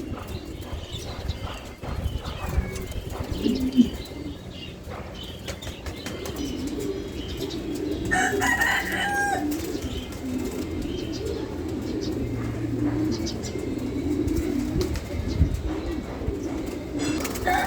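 Soft cooing of Giribaz pigeons mixed with fluttering wings and rustling, heard amid a busy, noisy background throughout.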